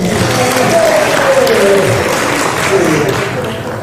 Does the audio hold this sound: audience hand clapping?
yes